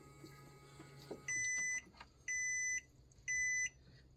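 A small fuel pump on an old gas can shuts off automatically near the strainer and sounds three short, evenly spaced electronic beeps. Faint handling noise comes before the beeps in a quiet setting.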